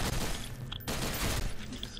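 Gunfire from a weapon in a video game, a dense rapid burst of shots heard at low level throughout the short span with no talking.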